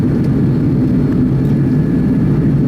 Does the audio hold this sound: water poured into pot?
no